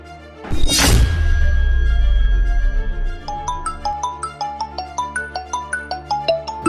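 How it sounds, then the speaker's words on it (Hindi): A sudden crash or smash with lingering rumble gives way to a repeating electronic ringtone melody, regular chiming notes cycling in a steady pattern. "प्रीत का फोन"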